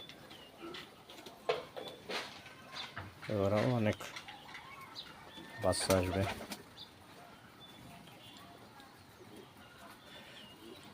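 Pigeons in a small farm with nesting chicks give low cooing and a couple of bursts of wing flapping nearby, while a person talks over them.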